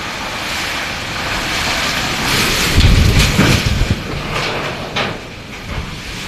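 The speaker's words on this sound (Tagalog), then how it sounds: "Ulan diri guys, grabe buwan ni kaadlaw karon." Heavy rain ahead of approaching Typhoon Tino, a steady broadband roar with a deeper rumbling swell partway through, close and loud with no talking.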